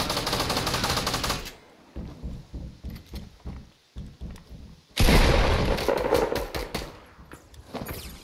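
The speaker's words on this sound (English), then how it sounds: "he's getting shot" Rapid automatic gunfire bursts in a Fortnite match, loud and near, with a short sparse lull of single shots before another dense barrage, plus some lighter shots from further off.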